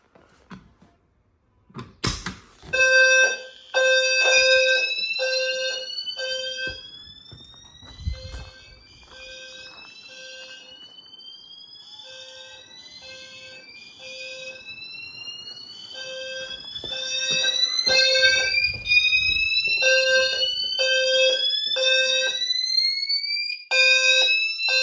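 Two fire alarm systems, one in a garage and one in a house, sounding at once: loud repeated electronic tone bursts in steady pulses with rising sweep tones overlapping, continuing throughout with no talk.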